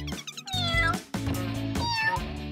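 A cat meows repeatedly and loudly at close range, giving several drawn-out, wavering cries in quick succession with no talking.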